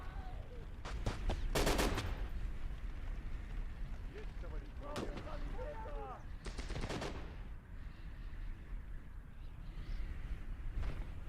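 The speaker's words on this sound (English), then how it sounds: "I can still hear a Maxim firing off" A Maxim machine gun rattles in bursts during a WWII battle in the Gates of Hell strategy game, sharp rapid cracks clustered in short volleys amid other gunfire, with someone talking over the fighting.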